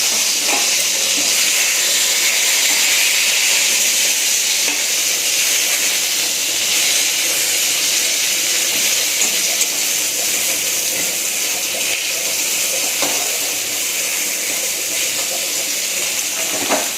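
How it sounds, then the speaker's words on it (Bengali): Eggplant frying in a pan while khichuri cooks alongside, giving a steady, loud broadband hiss of steam and sizzle throughout with faint clinks and no talk. "এদিকে বেগুন ভাজা চলছে, আর এদিকে খিচুড়িটা হচ্ছে।"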